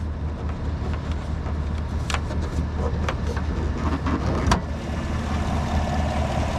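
A steady, low idle from a Chevrolet 5.3 liter V8 with cylinder deactivation in a 2018 GMC Yukon XL rumbles continuously, even and unchanging, with a few faint clicks and ticks over the top.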